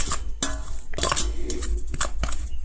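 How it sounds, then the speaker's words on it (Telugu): Mustard and fenugreek powder being mixed in a bowl, with scraping and light clinking of a spoon against the dish in quick, uneven strokes, close and alone. "ఆవాలు మెంతిపిండి సమానంగా తీసుకున్నాం తీసుకున్న తర్వాత దీన్ని మనం కలిపేసుకోవాలి"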